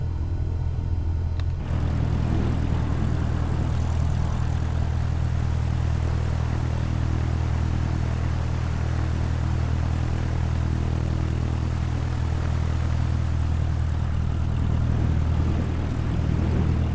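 An airliner taxis towards the runway in Microsoft Flight Simulator 2020 with a steady, loud low engine rumble that runs unbroken throughout.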